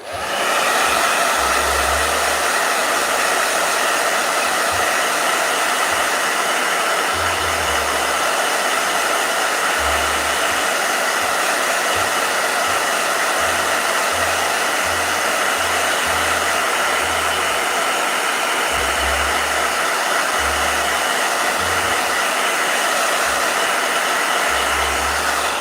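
A blow dryer runs steadily at close range, a loud continuous whooshing hum that never lets up, with a low intermittent rumble underneath.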